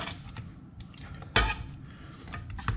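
A knife slices through an onion on a cutting board with soft, scattered taps and one sharp, loud chop on the board partway through.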